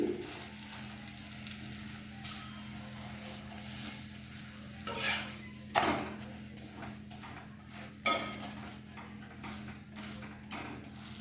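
An onion paratha frying on its second side in a pan gives a faint, low, steady sizzle with occasional spatula scrapes and taps, quiet and close, over a constant hum.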